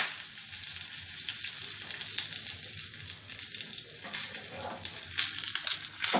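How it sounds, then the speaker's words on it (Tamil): Mustard seeds, cumin, asafoetida and curry leaves sizzle and crackle in hot ghee as a tempering for rasam, a close, steady frying hiss with small pops throughout. "ரசம் எப்போவுமே நெய்யில் கொஞ்சம் தாளிங்க. கடுகு போட்டிருக்கேன், ஜீரகம் போட்டிருக்கேன், கொஞ்சமாக பெருங்காயம் தூவுறேன், கருவேப்பிலை போட்டிருக்கேன்"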